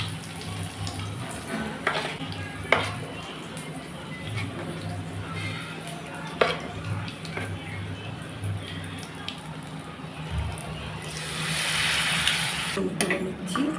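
Battered eggplant fritters (beguni) frying in oil, a soft continuous sizzle with occasional clinks and a burst of louder bubbling near the end, heard under light kitchen noise.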